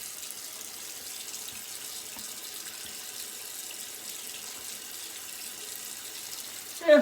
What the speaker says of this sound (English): Going to the cold water rinse.